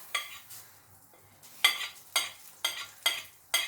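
Cumin seeds sizzle in hot oil on a stovetop in a sequence of sharp bursts: about six crackling surges, each fading quickly, with quiet gaps between them.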